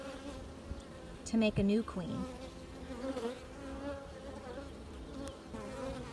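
Honeybee worker bees buzz inside a hive with a soft, continuous drone while a narrator talks over it.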